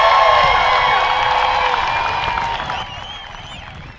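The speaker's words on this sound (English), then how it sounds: "Go ahead and stand and cheer." Teachers standing up and cheering at a live school event: a loud crowd roar of shouts and whoops that fades gradually, with scattered voices and claps carrying on as it dies down.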